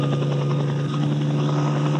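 Army helicopters at a display during the 1968 Mauritius independence ceremonies, heard from close by a public fence as a loud, steady rotor and engine drone that fills the whole moment.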